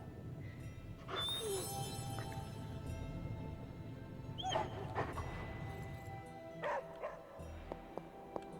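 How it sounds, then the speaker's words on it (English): A dog in the video game Midnight Suns barks and yips a few times over a steady low background hum, short bright calls scattered across the stretch with little talk. "At least this game lets you pet the dogs."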